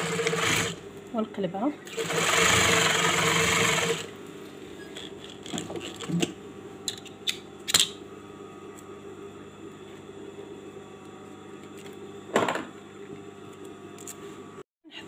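A fabric headband is stitched on a sewing machine, with a loud burst of continuous motor whirring lasting a couple of seconds, then quieter handling sounds while someone talks.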